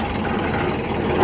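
Tractor engine running steadily with a rotavator attached, throttle eased on gently, giving a continuous close, moderately loud low rumble that swells slightly at the very end.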